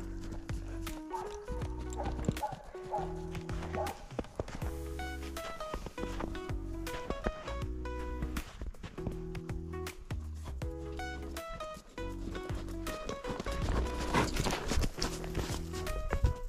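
A horse's hooves clip-clop at a steady, rhythmic gait during a riding lesson, the regular beats continuing throughout with some soft background movement.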